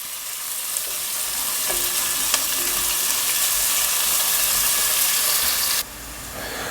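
Chopped onions fry in a pan as a loud, dense sizzle with occasional stirring knocks, close up and steady, dropping abruptly in level near the end.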